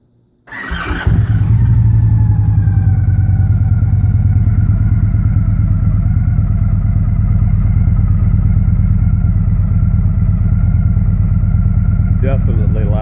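A Victory motorcycle fitted with a MagnaFlow exhaust starts abruptly, then settles into a loud, steady, deep rumbling idle heard close up, with no talking over it.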